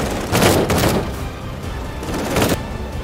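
A defensive turret fires in the zombie-defence video game Cepheus Protocol, its dense, rumbling bursts of gunfire rolling continuously, with heavier salvos near the start and again toward the end.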